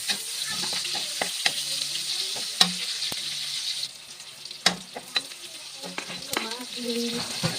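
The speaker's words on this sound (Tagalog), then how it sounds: "tapos ito na tayo mag-gigisa ng bawang. Saka sibuyas." Garlic and onion sizzle steadily in hot oil in a pan, with stirring scrapes and clicks breaking up the frying hiss; a sautéed bottle gourd (upo) vegetable dish in the making.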